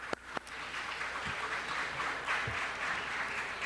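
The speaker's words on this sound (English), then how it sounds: "Please give her a round of applause" Applause in a city council chamber after a commissioner's appointment vote, a soft, distant, even patter of clapping following a couple of sharp knocks at the start.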